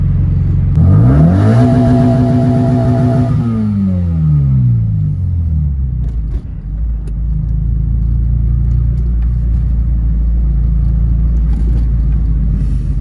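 A car engine revs hard with a rising then falling whine, then settles into a loud, steady low rumble that carries on to the end, close up with no talking.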